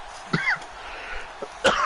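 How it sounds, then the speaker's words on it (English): Two short, harsh coughs, one near the start and one near the end, with a faint throat sound between them. "Jesus, this cough."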